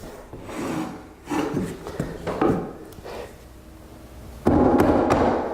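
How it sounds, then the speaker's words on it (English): A nail gun drives nails into hardwood floorboards during a floor install, firing a series of sharp, close thuds and knocks. A louder, denser burst of impacts comes near the end, with no talking. "So with it in place, I'll fire the first couple of nails."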